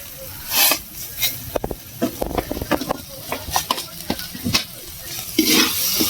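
Boiled vegetables and spices fry in a kadai, the spices releasing their oil as the mixture starts to stick, with a steady sizzle broken by repeated close scraping and stirring strokes.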